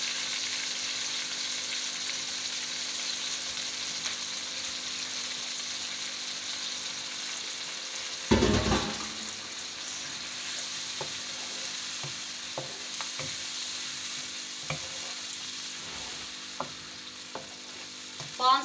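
Soaked masoor dal sizzles and fries in hot spiced oil, with a steady crackling hiss throughout. A sudden louder burst comes as the mixture is stirred, followed by scattered soft scrapes and clinks of the spoon against the pan.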